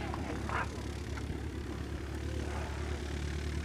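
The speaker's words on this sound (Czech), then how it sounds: "Kašparův letoun letěl ve dvoře Králové" Engine drone of a Blériot XI vintage monoplane flying, a steady rough hum sitting under constant outdoor noise, moderately distant, with no speech.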